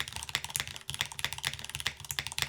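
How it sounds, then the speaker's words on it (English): Fast, continuous typing on a mechanical keyboard with an aluminum case and artisan resin bottom, crisp clacky keystrokes in a quick uneven rhythm, close up with no voices. "The keyboard doesn't sound bad though."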